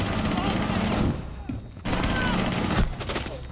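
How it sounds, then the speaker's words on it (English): Bursts of gunfire from the Rainbow Six Siege video game, several rapid volleys with brief gaps, loud and close against a dense game soundscape. "Ah, none of my shots hit."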